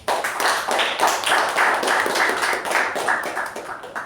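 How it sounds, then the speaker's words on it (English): A crowd applauds steadily, dense overlapping claps filling the whole stretch without pause. "Can we have a huge round of applause for the award?"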